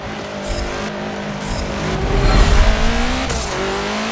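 A modified 2011 Subaru WRX STI engine at Spa-Francorchamps in Forza 7, revving and shifting through gears with rising whine, tire noise building mid-way, close and loud.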